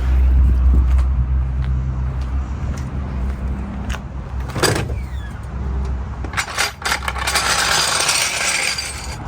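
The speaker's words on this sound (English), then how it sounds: "All right, we're gonna go ahead and lower it down." A Honda Civic is lowered on a car jack during a thermostat replacement, with a low hum giving way to scattered metallic clicks, clanks and a sharp rattling burst near the end.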